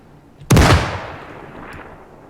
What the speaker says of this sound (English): it is so gratifying just having these cannons go